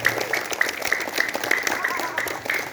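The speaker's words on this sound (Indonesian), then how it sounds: "Tepuk tangan buat kelas 1" A crowd applauds first grade students at the closing of a school orientation at SDN Lewi Nanggung elementary school, with steady, fairly loud clapping that continues from start to end.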